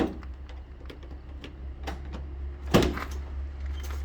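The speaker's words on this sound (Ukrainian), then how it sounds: "відкриваємо задні дверцята." A quiet latch clicks and rattles, followed by a Citroen Jumper or Renault Master van's rear door clunking open with a single sharp thud, set against a low steady hum.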